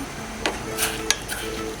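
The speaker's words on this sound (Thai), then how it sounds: "เราจะรวนเขาให้พอ เนื้อแดงๆเนี่ยหายแดงแค่นั้นนะคะ" Pork neck is stir-fried in a pot over high heat, with a few scattered metallic clinks and scrapes of a utensil against the pot over a steady low hiss.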